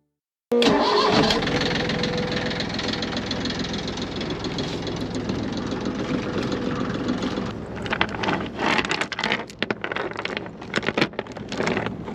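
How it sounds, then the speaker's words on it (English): A sailboat's engine cranks and catches, then runs loudly and steadily, settling into a rough, uneven idle with sputtering toward the end. "turn on the navigation lights and double check them if they were on and start the engine"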